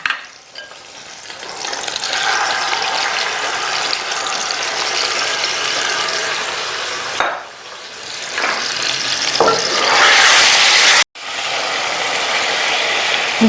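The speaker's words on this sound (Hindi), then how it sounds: "और चिकन डालकर भूनना है।" Chicken pieces fry in ghee with garlic and ginger, a steady loud sizzle and crackle with scraping stirs, swelling near the end and broken once by a brief cut.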